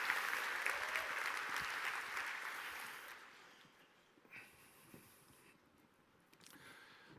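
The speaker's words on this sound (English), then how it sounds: "Please give a huge round of applause to everyone for making this conference happen." A conference audience at an opening keynote applauds, a dense wash of clapping that fades out after about three seconds, leaving a quiet room with faint rustles and a brief breath.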